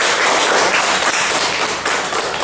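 Dense, steady applause in a classroom as a group of young students claps together, loud and continuous with no pauses.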